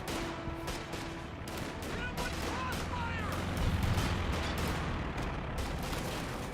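Dense gunfire from a Company of Heroes 2 battle, repeated shots and bursts crackling through a busy, loud battlefield mix with continuous background rumble.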